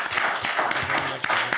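Brief applause at a town commission meeting for the town manager, a short burst of clapping from a modest room audience with a few sharper claps near the end.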